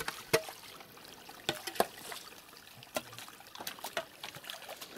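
Water trickles and gurgles over a stony streambed beneath a small footbridge, with soft continuous flow and scattered clicks and splashes close by.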